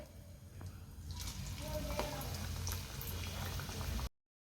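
Steady bubbling sizzle of onion fritters (kanda bhaji) frying in hot oil, fairly close, with a few faint clinks and no talking, cutting off abruptly after about four seconds.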